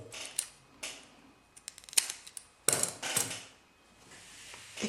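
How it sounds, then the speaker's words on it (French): Scissors cutting blue crochet yarn after a double knot, several quiet close snips and clicks in an irregular rhythm, with faint handling noises between them and no talk. "je vais faire un double nœud et couper le bleu"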